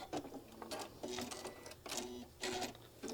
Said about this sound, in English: just stitch it all the way down till it comes off a 1/4 inch off the other end